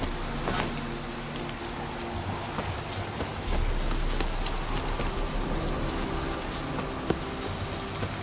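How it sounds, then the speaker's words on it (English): Steady rain hisses across an outdoor scene in The Witcher 3: Wild Hunt, a constant broadband wash of falling drops with faint rhythmic hoof-like clops and soft thuds underneath, no voices. "Looks like rain."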